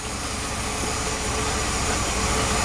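A carbureted engine converted from TBI to carburetor and HEI ignition runs at a loud, steady roar close by, with a broad, dense noise that holds level and rises slightly over a few seconds.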